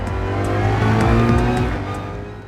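Race car engine in Gran Turismo 7 droning steadily on the track at close range, with a sustained tonal whine and faint tire noise, loud and alone without voices.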